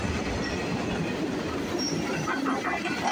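A CN freight train hauled by Union Pacific locomotives rumbles past close by at night, a dense continuous roar of wheels with faint clacking and occasional metallic squeals throughout.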